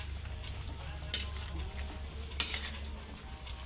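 A spoon stirs a coconut-milk dish simmering in a pan, a soft low bubbling and sizzle with a couple of sharp scrapes against the pot, faint and close.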